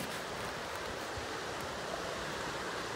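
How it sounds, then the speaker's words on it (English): River water flows in a constant, even rush of broadband noise with no breaks, fairly quiet and steady throughout. "I love the sound of that water."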